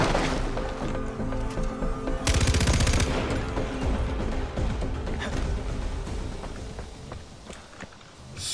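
A light machine gun in Far Cry 4 fires a loud, close burst that gives way to scattered shots, running footsteps and lingering battle noise, with no voices.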